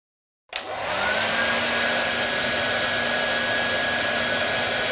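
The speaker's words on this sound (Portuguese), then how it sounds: "É o secador." A hair dryer switches on after a brief silence, its motor whine rising quickly to a steady, loud, close blowing roar that holds evenly to the end.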